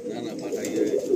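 Brief burst of low, rolling cooing from pigeons in a loft at Barasat, close and moderately loud, a couple of throaty phrases back to back.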